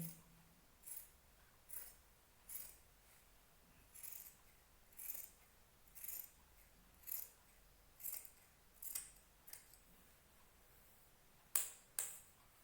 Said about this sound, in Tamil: இப்போ ஸ்லீவ்ஸ் வெட்டுறேன்.